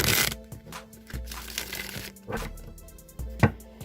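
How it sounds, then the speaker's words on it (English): Tarot cards riffled and shuffled in several quick bursts, crisp flapping and snapping close by, with short pauses between shuffles. "let's just give this deck a few shuffles."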